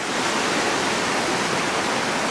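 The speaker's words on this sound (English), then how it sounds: "This is the Co River, really rushing through here." The Co River rushes loudly along the Mt. Hood Timberline Trail, giving a steady, close roar of churning water with no breaks.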